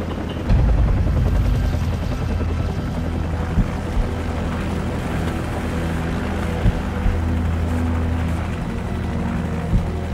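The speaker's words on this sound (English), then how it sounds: "Take out that helicopter." A helicopter's rotor drones loudly and steadily in Call of Duty 4: Modern Warfare, with a few sharp thumps popping out over the constant low churn.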